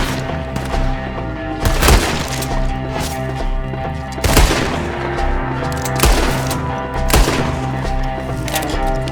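Gunshots in the video game Red Dead Redemption 2 during a firefight with an enemy up a tree: a few loud, booming shots spaced a couple of seconds apart over steady background music.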